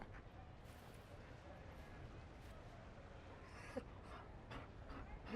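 A Mabari war dog in Dragon Age: Inquisition pants steadily and faintly through the whole stretch, with a short whimper-like sound near the end.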